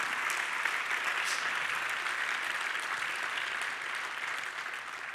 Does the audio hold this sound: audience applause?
yes